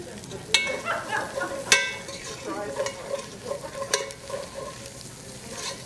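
Garlic sizzling in added fat in a hot pan, a steady crackling fry with sharp spattering pops and stirring clinks, close and continuous.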